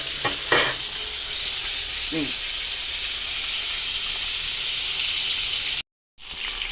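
Chicken pieces deep-frying in oil over medium heat, a steady bright sizzle with a few clicks of utensils, near and constant before a brief cut-out near the end.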